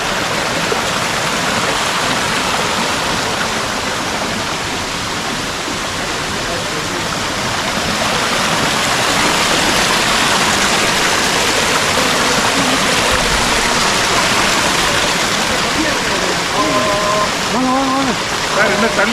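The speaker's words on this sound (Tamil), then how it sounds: "நல்ல அருமையான ஓடை." A mountain stream on the Pothigai Malai trek rushes loud and steady as a continuous broadband wash of flowing water close by, with faint voices near the end.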